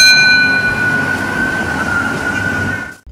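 A toy fire truck's loud, steady electronic siren tone rings out continuously, then cuts off abruptly at the end.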